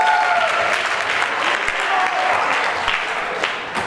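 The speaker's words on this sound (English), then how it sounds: "And yes, round of applause." Audience applause at a fundraiser show, with sustained, dense clapping from a crowd filling the room, steady and loud throughout.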